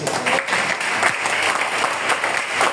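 A church congregation claps and cheers in praise, steady loud applause filling the whole moment without a break, with a few faint voices mixed in.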